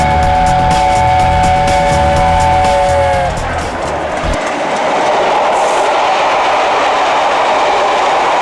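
A train at Rugeley railway station sounds loud and close, with sustained whistle-like tones over heavy rumble that fade into a steady roar of rolling noise.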